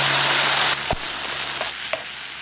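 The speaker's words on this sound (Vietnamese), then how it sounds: "Mình xào khoảng 1 phút nữa cho hành tây và nấm chín mềm" Chicken breast stir-fried in a pan with onion, mushrooms and a sauce of oyster sauce and water, giving a loud, steady sizzle that drops in level partway through, with a few scrapes of the utensil.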